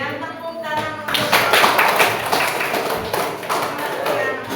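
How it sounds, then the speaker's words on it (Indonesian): A classroom group claps in applause, a burst of many hands that starts after a second of quieter room sound and carries on steadily, loud and close, to the end. "Kemudian tepuk tangan untuk"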